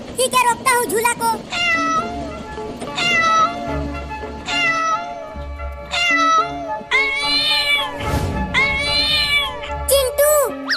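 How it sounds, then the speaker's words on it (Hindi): Repeated plaintive cat meows, loud and close, several drawn-out cries in a row with a musical background underneath. "ये बिल्ली रो भी रही है।"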